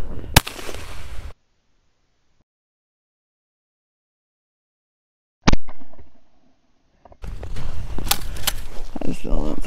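A shotgun fires at a clay pigeon outdoors, with a sharp, loud crack near the start and another sharp report later. Stretches of silence separate them, and voices talk in the last few seconds.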